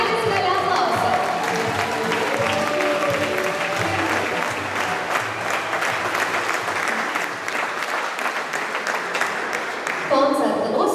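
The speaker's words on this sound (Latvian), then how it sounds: "Skaļi aplausi." Loud, sustained applause from a large audience at an outdoor folk dance concert, steady dense clapping filling the whole stretch with a brief voice near the end.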